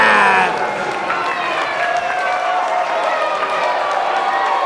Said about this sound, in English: the crowd absolutely loved it, RC.